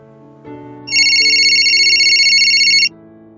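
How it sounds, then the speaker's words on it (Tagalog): A cellphone ringtone trills loudly in a repeating electronic pattern on a bedside side table, starting after a soft musical bed and cutting off abruptly, a sound effect in a Tagalog audio drama. "cellphone niya na tumutunog na nasa side table"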